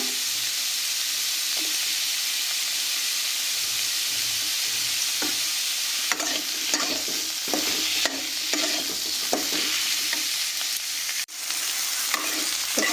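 Vegetables sizzle steadily in a hot pan while a utensil stirs and scrapes through them in irregular bursts, close and fairly loud.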